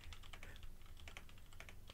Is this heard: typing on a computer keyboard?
yes